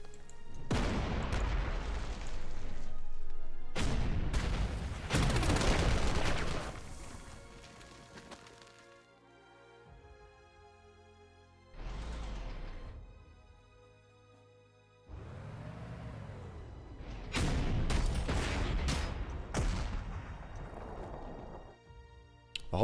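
Mortar and artillery fire in the WWII strategy game Panzer Corps 2, Axis Operations 1943 at Prokhorovka: several loud booming blasts and crashes come in bursts with long rumbling decays and short quiet gaps between them.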